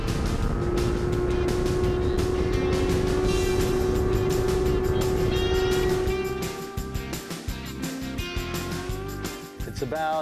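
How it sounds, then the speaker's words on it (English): Steady engine drone of a new Triton motorboat on the Pamlico Sound, North Carolina, with a high whining tone, loud and close, easing off slightly toward the end. "Scooter's got his brand new Triton boat here."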